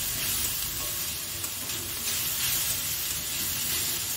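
Radish greens frying in a pan with sesame, a dense, continuous loud sizzle and hiss held steady throughout, close and alone without any voices.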